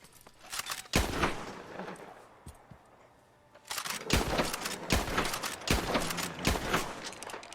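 Repeated gunshots and gunfire in Red Dead Redemption 2, sharp loud reports in bursts with a brief lull midway, then a dense volley of close shots near a Criollo horse.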